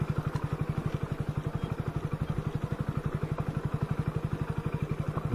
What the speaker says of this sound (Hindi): देखता हूँ कहाँ कहाँ तक जा सकता हूँ इस अपने बाइक के सहारे।